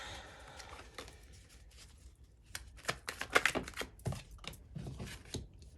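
A deck of tarot cards being shuffled by hand, giving quiet papery riffles and soft slaps in short irregular bursts, fairly close and low in level, with a denser flurry midway.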